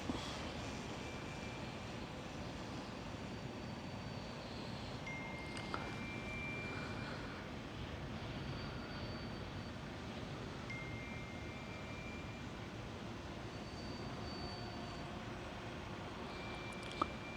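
A camera drone climbs from the ground at a water treatment site, its steady, faint motor whir holding a constant drone throughout with no talking.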